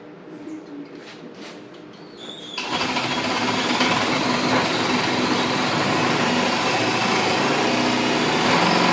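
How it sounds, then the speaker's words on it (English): A power drill whirs continuously and loudly, kicking in abruptly after a quieter start and running steadily as holes are bored into plywood for a cart. "You might need to go ahead and just drill them all."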